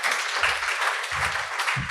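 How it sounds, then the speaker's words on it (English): Applause from an audience greets a panel guest at a climate change talk event, a steady moderate clatter of clapping with some low murmuring underneath. "Please, Jaap, a big round of applause for you, and sit down."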